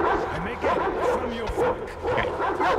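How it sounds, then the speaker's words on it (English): Dogs bark and yip in the game Metro Exodus in several short, uneven bursts, with a voice talking at the same time. "Dogs."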